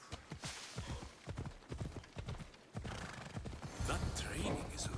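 Horse hooves clip-clop steadily on the ground in Assassin's Creed Odyssey, a galloping rhythm of sharp repeated strikes, joined by a brief whinny and mechanical creaks, with voices talking over parts of it.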